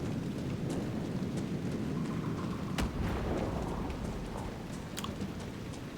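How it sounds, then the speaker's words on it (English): Thunderstorm in Crestwood in Dragon Age Inquisition, with steady heavy rain and nearby thunder cracks and rumbles from lightning strikes, with no talk. "I do notice lightning does strike very close to you sometimes"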